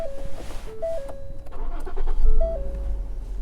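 A used car starting at a government auction inspection: starter whir, then the engine catches and settles into a steady low idle, close by with no talk.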